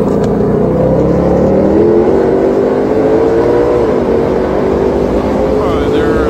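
A car at high speed on a race track holds a loud, sustained engine drone with a rising pitch as it accelerates down the straight, steady and close, with a voice speaking over it.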